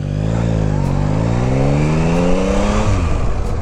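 A Harley Davidson motorcycle pulls away from a stop, its engine note rising steadily as it accelerates through about three seconds of loud, continuous throttle, with a brief dip near the end as it shifts.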